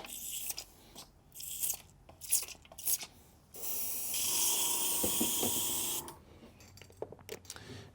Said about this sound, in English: we'll load up that shamrock green here and start spraying from the top